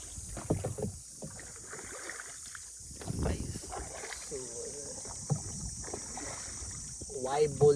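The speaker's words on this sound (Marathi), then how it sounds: "त्याच्यावर होडी चालून घेते" A rowing boat moves across open water near a beach, its soft splashes and hull sounds mixed with steady wind noise, with brief voices and a few knocks over about eight seconds.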